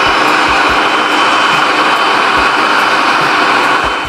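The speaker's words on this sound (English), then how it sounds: "And we're going to puree this up." A blender purees a jerk chicken marinade with Chinese five spice, giving a loud, steady, continuous whir close by with no break, and no one speaks.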